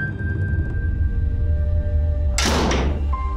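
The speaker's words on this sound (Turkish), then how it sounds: "nasıl oluyormuş Melek Hanım kapıyı yüzüme kapatmalar?" A door is shut firmly in a home scene from a Turkish TV drama, a single loud close thud with a brief rattle that stands out over a low steady background.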